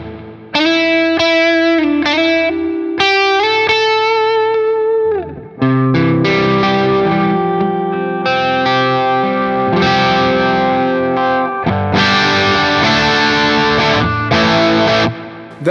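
Electric guitar through a REVV Dynamis pedal on an ambient rhythm preset, loud strummed and arpeggiated chords with distortion, chorus and lingering echo, a short gap partway through.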